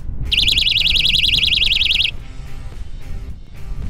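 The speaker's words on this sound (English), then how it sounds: "A personal alarm wristlet." Mace personal alarm wristlet blares a loud, shrill warbling siren for about two seconds, close and piercing, then cuts off, leaving quiet background noise.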